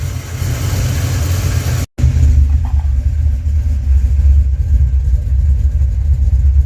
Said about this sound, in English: Now we got some cam chop.